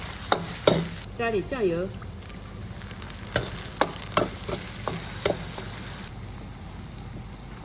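Ingredients are stir-fried in a sizzling pan, with scraping spatula strokes and clanks over a steady fry hiss; someone speaks briefly between the stirs.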